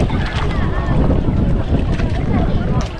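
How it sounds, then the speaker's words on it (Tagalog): Strong wind buffets the microphone on a boat trip, a loud, steady roar and rumble with water rushing beneath, filling the whole stretch without pause. "Napihit ang hangin."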